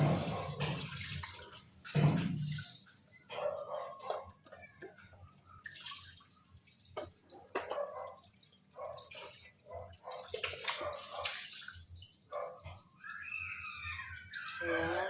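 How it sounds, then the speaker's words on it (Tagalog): Fish is rinsed under running water in a home kitchen, with intermittent splashing, dripping and gurgling that rises and falls irregularly, fairly quiet and close. "Tapos na natin hugasan ng isda."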